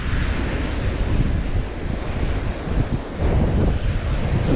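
Ocean surf at Blue Lagoon Beach in Durban, South Africa, heard as a loud, continuous wash of breaking waves mixed with heavy wind buffeting the microphone, with no voices.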